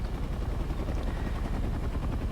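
An AH-1W Cobra attack helicopter in War Thunder gives a steady, dense rotor and engine roar with rapid chopping pulses that stay loud and constant throughout, with no voices.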